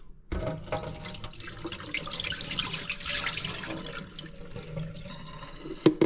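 Dirty water pours from the wastewater tank of a Roborock S7MaxV Ultra robot vacuum, a steady splashing stream that fills most of the clip and ends in a couple of sharper knocks, with no talking.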